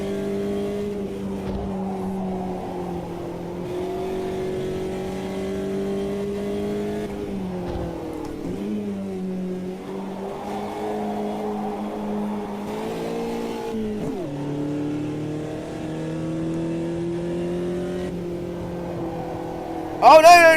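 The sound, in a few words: race car engines in Automobilista 2 video game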